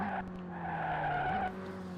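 Tires skidding as a car drifts in the racing game Maximum Racing, a sustained squealing screech over a droning engine tone that shifts pitch briefly before easing off, loud and close.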